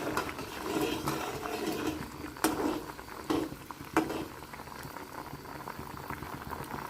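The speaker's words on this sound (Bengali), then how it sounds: "এখন দিয়ে দেব এর মধ্যে, দিয়ে অল্প ফুটিয়ে নেব।" Flattened rice pitha simmering in sugar syrup in a pan, a steady bubbling boil with a few louder pops and splutters standing out over the continuous simmer, close by and with no voices.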